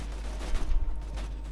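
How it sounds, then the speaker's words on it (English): Gunfire in Borderlands 2: a dense, rapid volley of shots with heavy low-end thumps, loud and close, surging in the middle before easing off. "Where are they shooting at me from?"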